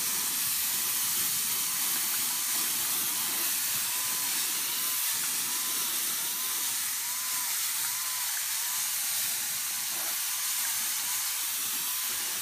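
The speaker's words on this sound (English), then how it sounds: "So I'm going to continue steaming" Steam cleaner hissing continuously while steaming Traxxas Summit RC car tires to fix out-of-round rubber, a loud steady close jet of hiss throughout with no talking.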